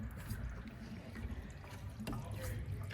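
Water rushes from a fully opened drain valve on a residential fire sprinkler system, a steady close hiss and gurgle of fast flow heading to the main drain.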